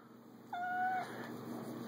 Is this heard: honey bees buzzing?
no